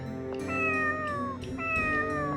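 A cat in the video game Tales of the Abyss gives two drawn-out meows in quick succession, close and clear, with falling pitch, set over a soft steady game music background.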